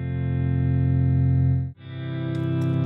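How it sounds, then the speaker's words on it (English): Electric guitar chord struck and held through a compressor, squashed on the attack and then slowly swelling like a sustained pad; the chord is re-struck near the end and blooms again, loud and close with no voices. "as soon as the chord hits, it kind of smushes it and then slowly releases it, which gives kind of a pad sound"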